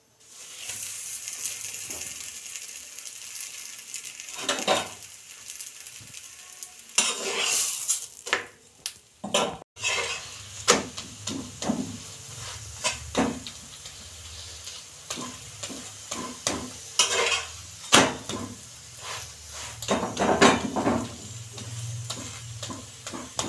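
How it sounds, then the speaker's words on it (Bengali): Aloo parathas fry in a pan, a low steady sizzle broken by frequent scraping and tapping of a spatula and occasional clatter of utensils, close and moderately loud. "এইভাবে আমি সব কটা ভেজে নেব"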